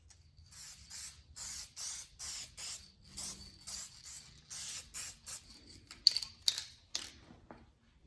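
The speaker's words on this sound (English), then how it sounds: "We're gonna go ahead and scribe that line on here." A tool scribes a line around an upholstery pattern for a hot rod interior, making a rapid series of short, crisp scratchy strokes, about fifteen evenly paced swipes close up in a quiet room.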